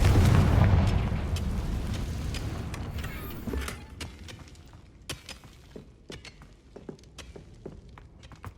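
A fiery spell blast in the Hogwarts Legacy video game, a heavy boom that fades out over several seconds, followed by scattered debris clatters and pops.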